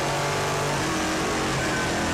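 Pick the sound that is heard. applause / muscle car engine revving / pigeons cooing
muscle car engine revving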